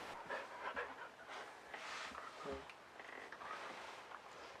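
A dog pants steadily and close by, with quick breathy huffs that continue throughout and no voices.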